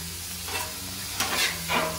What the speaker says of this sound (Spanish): aquí mi esposo ya está cocinando.